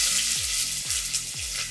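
Onion sizzles steadily in a hot pan with whole spices, a constant bright hiss of frying with a few soft scraping stirs breaking through at regular intervals.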